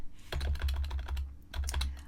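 Fast, close computer keyboard typing as book text is edited, in two busy bursts of rapid key clicks separated by a brief pause, with no voices.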